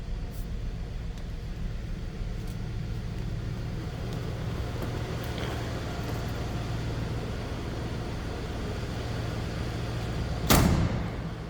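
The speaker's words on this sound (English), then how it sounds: "Door closes nicely." Steady low engine hum, then near the end a single solid thunk as the door of a 1978 Lincoln Continental Mark V Designer Series shuts.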